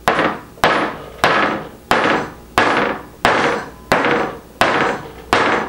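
A small hammer raps the toe of a grey Airwalk shoe eight times in an even rhythm, each sharp, loud knock close by and left ringing briefly.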